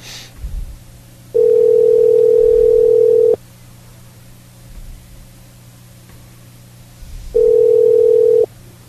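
A telephone line tone sounds while a call is being placed, a loud, steady, pure tone heard in two separate bursts with quieter line noise between them.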